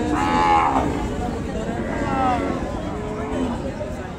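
A gai cow at the Nayamail cattle market in Chuadanga lows loudly near the start and again around the middle, with bargaining voices of buyers and sellers running throughout.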